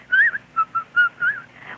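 A person whistles a Snow White tune in a clear, close series of about six melodic notes, alone with no talking.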